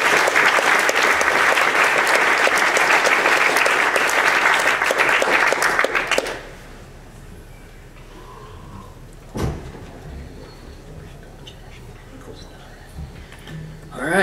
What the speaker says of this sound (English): Let me get a round of applause for Ales Kot.